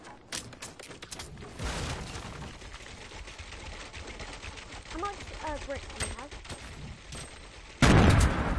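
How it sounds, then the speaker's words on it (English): Bursts of Fortnite gunfire crackle through the first half, with game sounds and a voice or two mixed in, ending in a louder noisy burst near the close. "Where are those bullets coming from?"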